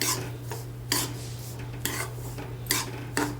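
Semolina being dry-roasted in a pan for karanji filling, a spoon or spatula scraping and stirring against the metal with occasional sharper clinks, steady and close with no voices.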